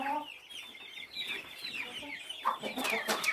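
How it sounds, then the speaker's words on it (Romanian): Hens cluck softly inside a coop where some sit brooding on eggs, a close run of low, irregular murmuring clucks with a few sharper calls near the end. "Cea de jos de Isabel vrea să o ouă, iar celelalte două clocesc"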